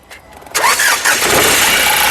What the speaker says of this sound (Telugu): సింగిల్ సెల్ఫ్లో కార్ స్టార్ట్ అవుతుంది ఎటువంటి స్టార్టింగ్ ట్రబుల్ అయితే లేదండి